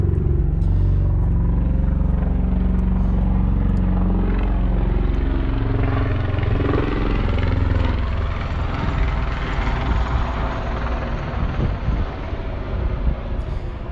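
An aircraft flies low over a spot right next to an airport, a loud, continuous roar that fills the whole stretch and slowly shifts in pitch as it passes.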